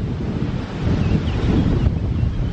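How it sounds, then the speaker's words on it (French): Strong gusts from Storm Miguel buffet a low-cost greenhouse, producing a loud, rumbling roar that swells and surges, close to the microphone and continuous. "c'est rafale."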